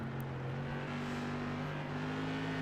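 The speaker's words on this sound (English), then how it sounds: "you can hear A.J. very, very slow to get back into the throttle out of turn number 4" A modified race car engine at Myrtle Beach speedway drones steadily as it comes off turn four, a sustained, fairly distant engine tone with slight pitch rises as throttle comes back, no voices over it.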